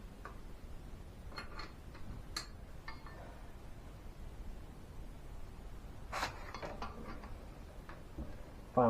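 Ratchet wrench loosening a 9/16 bolt on a 1950 Farmall Cub tractor during brake work, giving faint scattered clicks and short ratcheting bursts over a quiet workshop background, with a louder cluster of clicks near the end.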